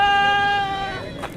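Sheep at a goat market bleating in a long, loud, wavering cry that fades into background crowd murmur, with a faint short noise near the end.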